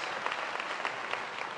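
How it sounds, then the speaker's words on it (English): Audience applause at a service recognition event, a brief stretch of steady, moderately distant clapping from a crowd with no pause. "give them a round of applause, please"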